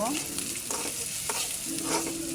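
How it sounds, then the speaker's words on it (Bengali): Food stirred and fried in a pan: a bright continuous sizzle with a few scraping strokes of a spatula, close and moderately loud, no voices. "ভালোভাবে নেড়ে চেড়ে নিব"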